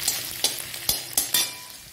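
Grated garlic and onion frying in hot oil in a pan, a steady sizzle with a few sharp stirring scrapes and taps close by, no talk.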